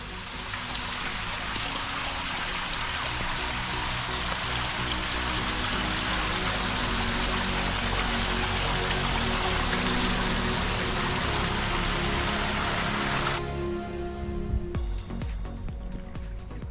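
A forest creek in Hoosier National Forest, southern Indiana, rushes steadily and loudly close by, a continuous broadband wash of flowing water with no voices, briefly shifting near the end as the listener moves.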